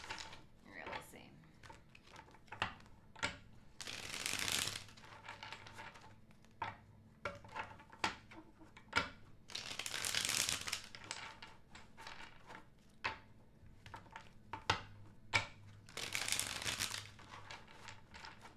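Tarot cards being shuffled at a table, giving bursts of papery riffling and soft slapping that recur every few seconds. Quiet taps and clicks fall between the bursts, and a voice speaks now and then.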